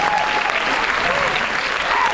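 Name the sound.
audience applause at concert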